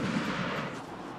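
Fireworks explode at a barbecue party, a loud, dense booming crackle that rolls on and fades slightly toward the end, with no voices.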